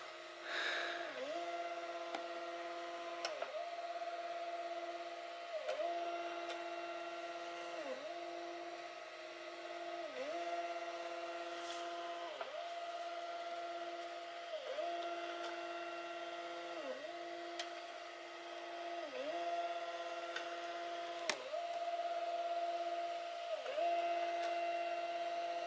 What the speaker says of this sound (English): I believe we're homing out the machine.